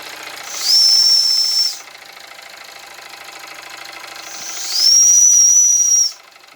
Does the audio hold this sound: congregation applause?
no